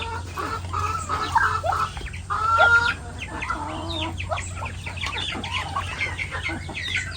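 Native chickens clucking on a provincial farm, steady overlapping clucks and calls close by over a low background hum, with no talk.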